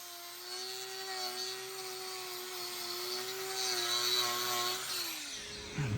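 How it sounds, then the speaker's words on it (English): Grinder working on very hard cattle hoof horn, a steady high-pitched whine with a gritty abrasive edge, held close and loud for several seconds before cutting off abruptly near the end. "The pitch of the noise the grinder's making is high, and that's because this hoof horn is exceptionally hard."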